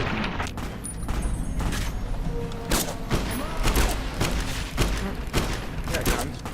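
Gunfire in Fallout New Vegas crackles in dense, rapid bursts with heavy booming thumps, mixed with talking voices over the game audio.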